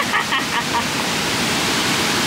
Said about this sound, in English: They dammed all this, and then there's actual waterfall right there.